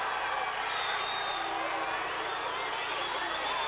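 A basketball crowd at a Southland Conference semifinal between Southeastern Louisiana and Sam Houston State roars and cheers in a steady, loud wash of voices with whoops rising above it, unbroken for the whole stretch.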